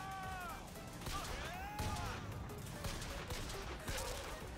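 Gunfire in the video game BioShock Infinite, a loud burst of sharp shots amid a busy, noisy game mix, with several bangs layered over one another.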